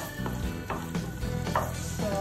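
Garlic frying in a pan at home while cooking spaghetti, a steady close sizzle with a few soft knocks and stirring scrapes, no talking.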